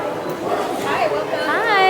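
A small dog dressed in a pumpkin Mickey costume yaps and whimpers in short bursts under a crowd's chatter and nearby voices at a Halloween theme-park gathering.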